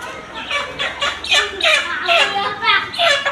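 Ducks and chickens squawk at a market in a run of loud, rapid, harsh calls close by, with a voice or two mixed in among the birds.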